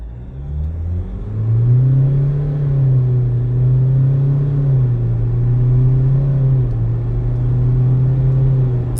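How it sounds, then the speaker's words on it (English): A 2024 Ford Ranger Tremor with a 2-liter bi-turbo engine accelerates through the gears, a loud steady rumbling drone that rises in pitch, dips at each shift and climbs again. "Let's have a quick look at how the 2-liter bi-turbo engine performs."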